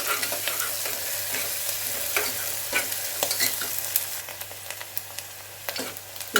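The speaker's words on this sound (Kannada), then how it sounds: "ಸ್ವಲ್ಪ ಎಣ್ಣೆಯಲ್ಲಿ ಚೆನ್ನಾಗಿ ಸ್ವಲ್ಪ ಫ್ರೈ ಮಾಡ್ಕೊಬೋಣ" Bitter gourd frying in a little oil for palya, a steady close sizzle with scraping stirs and clicks from a spatula against the pan, heard alone throughout.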